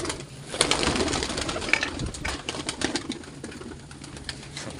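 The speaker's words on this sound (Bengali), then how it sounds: "পায়রা মোটামুটি খাচ্ছে।" Pigeons feeding on millet coo in low murmurs amid busy pecking and scattering grain, a steady close flock sound with no speech.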